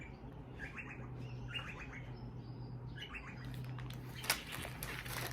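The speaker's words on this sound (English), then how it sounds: "The birds are wanting to join in on the video." Several birds chirp in short repeated bursts at a distance over a steady low hum, with a sharp click near the end.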